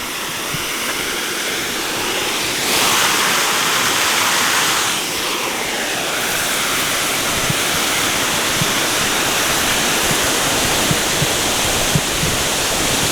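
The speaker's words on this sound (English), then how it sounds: "Quite a nice waterfall there." A waterfall on the River Porter near Sheffield roars steadily and loudly throughout, a dense constant rush of falling water with slight swells in intensity partway through.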